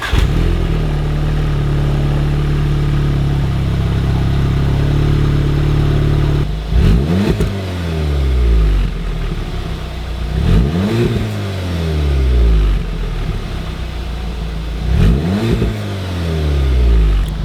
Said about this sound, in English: I'll show you guys what the stock exhaust system sounds like